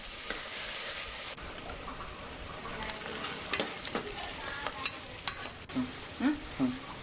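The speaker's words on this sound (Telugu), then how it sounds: "ఐదు పచ్చిమిరపకాయలు ఇలా సన్నా కట్ చేసి వేసుకోవాలి దీనిని మంచిగా ఫ్రై చేసుకోవాలి" Chopped green chillies frying with onions in a pan for goat head curry, a continuous close sizzle with scraping strokes from a spatula and light clinks near the end, no voices.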